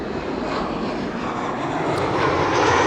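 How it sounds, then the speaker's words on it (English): Boeing 787 Dreamliner arriving at Amsterdam Schiphol Airport on the base leg for runway 36 Right, heard as a steady, fairly distant broadband jet roar that swells slightly toward the end, with no voices. "Looks like a Dreamliner. So that is basically the downwind leg, no, base leg for arrivals."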